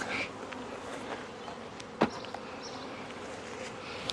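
Honeybees buzz around an opened hive a week after being split, a soft continuous drone with individual bees passing close to the microphone now and then.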